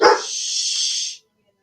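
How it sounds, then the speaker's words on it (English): A dog gives a sharp, close bark that runs straight into a high, drawn-out whine lasting about a second, then falls silent. "Sorry, my dog's getting mental."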